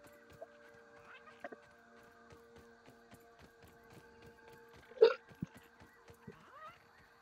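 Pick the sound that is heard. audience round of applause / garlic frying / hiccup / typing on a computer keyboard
hiccup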